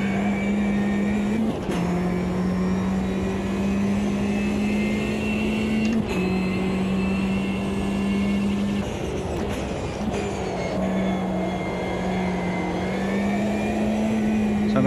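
A vintage race car with a modded engine drones steadily in Automobilista 2, held in top gear at high speed, with brief dips and shifts in pitch every few seconds and no voices over it.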